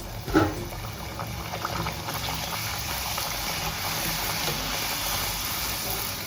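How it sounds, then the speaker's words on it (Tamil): Rolled poori dough frying in hot oil: a short splash as it drops in, then a steady, loud, frothy bubbling sizzle with no talk. "இப்போ எண்ணெயில் போட்டு எடுக்க போகிறோம்"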